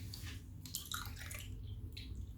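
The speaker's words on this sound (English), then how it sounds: "fill it up with water" Water is poured into a shot glass holding a mouthwash tablet, a faint, close trickle with soft splashing bursts.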